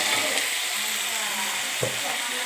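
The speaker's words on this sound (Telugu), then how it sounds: "ఈ టమాటా ముక్కలు బాగా మెత్తగా అయిపోయేదాకా వేయించుకోవాలండి" Tomato pieces fry steadily in a pan, a soft continuous sizzle with a brief stir or scrape near the end, heard close and on its own.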